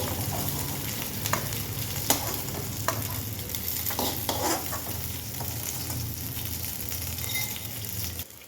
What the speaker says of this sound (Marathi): तळून घेऊया